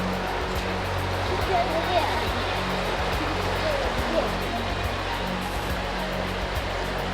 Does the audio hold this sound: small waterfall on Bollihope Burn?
yes